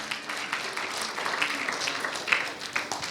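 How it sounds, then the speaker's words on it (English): A church congregation at a Sunday service claps for a group of men as they sit down, a steady, soft patter of many hands spread through the room without any break. "I think we can clap them once more as they sit down."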